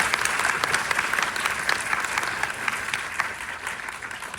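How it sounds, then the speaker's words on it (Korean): A theater audience at a film screening and talk for The Witch 2 applauds steadily, with dense sustained clapping from many hands throughout and no talking. "큰 박수 한번 보내주실까요?"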